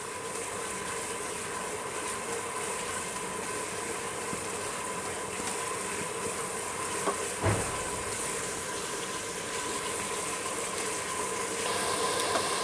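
Tomato masala with cumin powder frying in a pan for street-style dal mash, a steady dense sizzle running throughout, with one brief knock of the spoon partway through and no talking.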